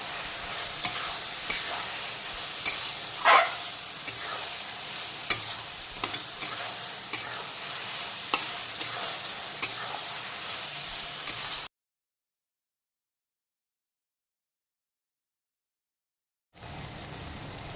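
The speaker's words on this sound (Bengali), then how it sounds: "এখন মশলার সঙ্গে খুব ভালো করে আবারও মিক্স করে নেব।" Fried taro pieces stirred into a sizzling cooked-down spice paste for a rohu fish curry, a steady close hiss with scraping spoon clicks, then a stretch of silence before the sizzle resumes.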